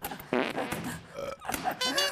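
A clown's fart noise from a pants case gag routine: a few short blubbery bursts with brief gaps, close and fairly loud, with some voice sounds mixed in.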